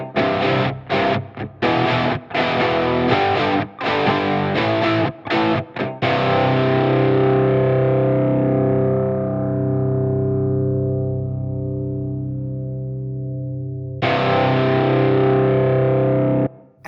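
Double-tracked electric guitar rhythm fragments played back in chopped bursts, then one loud distorted chord ringing out and slowly decaying before another strum near the end.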